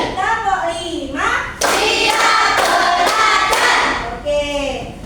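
Schoolchildren clap in time during a numbered classroom routine, a few sharp, loud bursts of group clapping separated by a voice speaking.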